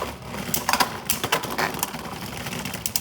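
Beyblade spinning tops clash in a plastic stadium, giving a rapid run of sharp clicking and rattling impacts in quick bursts throughout, close and fairly loud with no talk.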